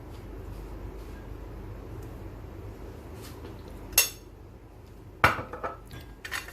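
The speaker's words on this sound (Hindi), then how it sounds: "मायोनीज डालकर आप अच्छे से मिक्स कर लें इस मिक्सचर को।" Russian salad with mayonnaise is mixed in a bowl: quiet soft stirring followed by a couple of sharp spoon clinks against the bowl and a few lighter taps.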